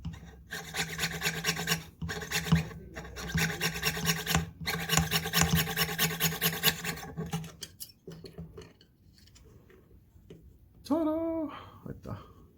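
A small piece of metal held in pliers is cut, producing a close, harsh rasping that comes in rhythmic strokes with brief pauses for about eight seconds, then gives way to quieter handling and a short voice.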